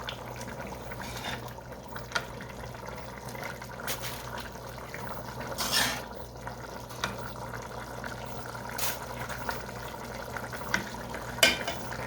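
Sauce pours over tortilla chips in a baking dish, a soft, continuous liquid glug and slosh with a few faint clinks and taps, quiet and without talk.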